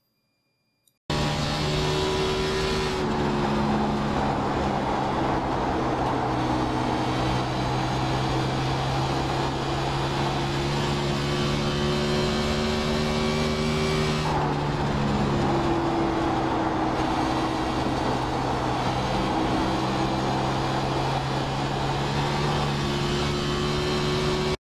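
Race car engine sound from a lap of Dover in the iRacing simulator, a steady continuous drone with smoothly rising and falling pitch as the car accelerates and lifts through the corners, loud and alone without talk.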